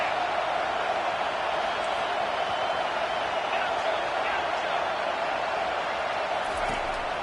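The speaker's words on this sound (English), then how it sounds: "Now the crowd responding in the red zone," A stadium crowd at a homecoming football game roars steadily in the red zone, a constant broad wash of cheering noise that stays even and fairly distant without distinct peaks.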